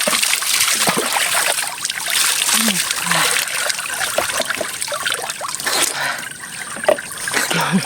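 Water splashing and trickling as people bathe together with a carabao, steady and close, with voices talking and calling out over the wet sloshing.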